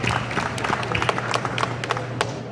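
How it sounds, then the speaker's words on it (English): Scattered hand claps and applause from an audience at a talk on medical cannabis, fairly steady over a low hum, with no talking. "I want you to give yourself a round of applause"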